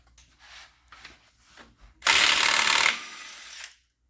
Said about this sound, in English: we'll go ahead and impact the balancer bolt off